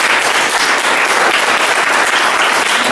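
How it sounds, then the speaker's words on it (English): An audience claps for U.S. Senator Carl Levin at the close of a legislative session, a dense steady wave of applause holding loud and even throughout. "A big round of applause for him."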